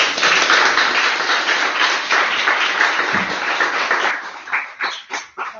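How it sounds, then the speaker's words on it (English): An audience at a PyLadies members' talk evening claps in a dense, steady round of applause that thins into a few scattered, separate claps toward the end. "So another big round of applause."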